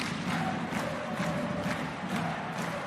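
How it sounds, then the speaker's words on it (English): An ice hockey arena crowd cheering on the Pinguins Bremerhaven in their Champions Hockey League home debut against TPS Turku, a dense, steady roar with rhythmic chant-like swells throughout. "A fantastic crowd tonight, urging on the Penguins in their Champions Hockey League home debut."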